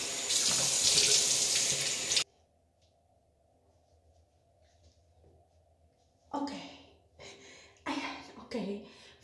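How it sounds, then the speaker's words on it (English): Tap water runs loudly into a sink for about two seconds, then stops; after a quiet pause, bursts of splashing follow as a face is washed with water at the sink. "So I wash my face"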